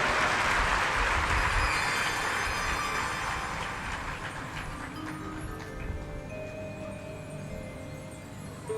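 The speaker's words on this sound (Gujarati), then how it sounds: "એકવાર ખૂબ તાળીઓના નાદથી ગુરુજીને વધાવીએ" A crowd at a Bhagavat katha gathering claps loudly to welcome the guru; the dense applause is strongest at first, then gradually fades and thins out.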